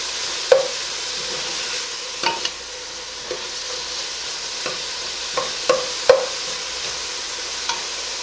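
Onions and thin carrot slivers cook in a pan with a soft, steady sizzle, while a utensil knocks and scrapes against the pan in sharp, irregular taps close by. No one speaks.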